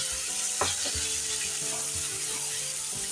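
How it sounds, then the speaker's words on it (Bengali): Masala for a vegetarian cabbage curry being stirred in a pan, giving a soft continuous sizzle with a few light scraping taps of the spoon, quiet and without talk. "ভালো করে নেড়ে চেড়ে নিচ্ছি"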